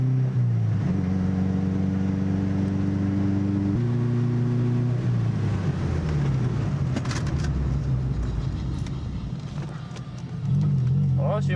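A Subaru car drives and brakes hard, its steady engine drone dropping in pitch as it slows, then rising again near the end, heard from inside the cabin.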